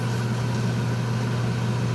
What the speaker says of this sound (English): get my exhaust fan going here in my spray booth.